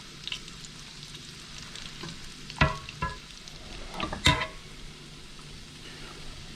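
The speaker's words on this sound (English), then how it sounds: "So these are frying nicely." Oil sizzles steadily as Chinese crullers fry, with a few sharp clinks and scrapes of a utensil against the pan.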